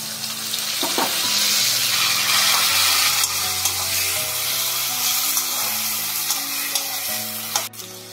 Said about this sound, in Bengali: এবারে পেঁয়াজ বাটা দিয়ে দিলাম।